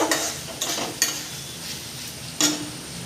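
Meat with water hyacinth being sautéed in a pan: a soft continuous sizzle broken by several sharp scraping strokes of a utensil against the pan, fairly close.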